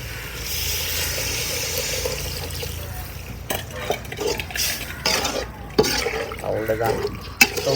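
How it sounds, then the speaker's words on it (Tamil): Water is poured into a goat intestine curry (kudal kuzhambu) being stirred in a pot during village-style cooking, with liquid sloshing and utensil scrapes close by and a voice talking at times. "இப்போ இது கூட வந்து நம்ம தண்ணி ஊற்றிக்கலாம்"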